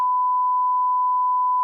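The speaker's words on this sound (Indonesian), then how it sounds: "nanti tolong di-beep ya" A steady pure-tone censor bleep runs unbroken for under two seconds, loud and alone, covering out speech from a podcast conversation about studio design.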